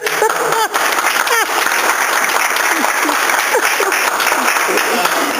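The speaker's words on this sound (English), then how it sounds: "Everybody could give him a round of applause." Steady applause from a crowd, continuous clapping throughout with a few scattered whoops and voices rising over it.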